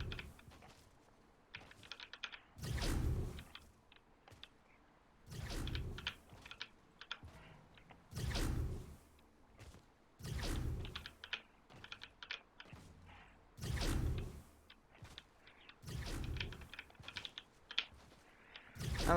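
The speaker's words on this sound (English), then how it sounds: "I like my new keyboard a lot." A new computer keyboard is typed on in short bursts, each a rapid flurry of close, crisp key clicks separated by brief pauses, repeated through the clip with no talking.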